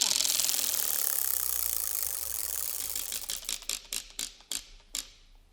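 A spinning prize wheel clicks quickly at first. The ticks then slow into sparse, separate clacks as it coasts to a stop, close and fairly loud.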